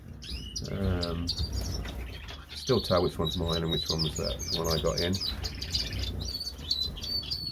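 Caged birds in a backyard bird shed with a newly added cock bird, chirping and tweeting steadily throughout, with occasional wing flutters, while someone talks close by over them.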